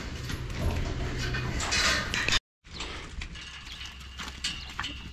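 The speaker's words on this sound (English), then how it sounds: "There goes the fresh cows." Fresh dairy cows, Jerseys among them, shuffle past on a Wisconsin farm, their hooves clopping in a steady rhythm with faint clanks of gates and equipment, broken by a brief gap of silence.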